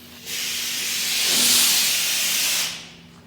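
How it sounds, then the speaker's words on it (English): A sawmill air compressor shuts down, letting out a loud, steady hiss of escaping air that swells to a peak and then cuts off abruptly, leaving a faint low hum. "Air compressor's dying off."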